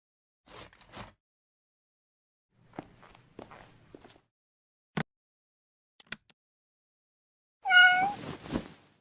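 A cat in the video game Nobodies: Silent Blood gives a single clear meow near the end, after scattered soft footsteps and faint clicks in an otherwise quiet room.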